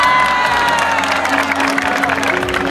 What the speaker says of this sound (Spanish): Hay que aplaudir, hay que ponerle alegría a esta bonita tarde.